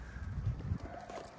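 A horse moves under saddle during a dressage schooling session, its hooves giving a quick, muffled, fairly distant clip-clop over a short stretch.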